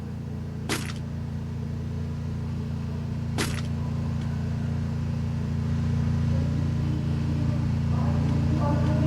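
A car engine drones steadily in the Free Fire battle game on the Bermuda map, a constant low hum with two sharp gunshot-like cracks early on and faint activity toward the end.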